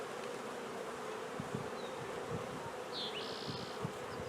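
Honey bees swarm around a hive frame, their dense, steady buzzing close and continuous, with a few individual bees droning past.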